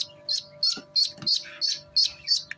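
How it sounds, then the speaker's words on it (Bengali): Newly hatched local deshi duck chicks peeping close by, a run of about eight high, thin calls in a quick, fairly regular rhythm, clear and alone without talk. "এগুলো দেশি হাঁসের বাচ্চা"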